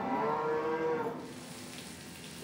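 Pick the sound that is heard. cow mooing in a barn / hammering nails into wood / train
cow mooing in a barn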